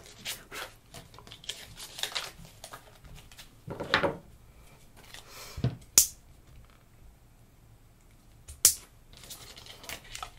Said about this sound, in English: These hole punches are great because you can adjust the size of your hole, your punch hole.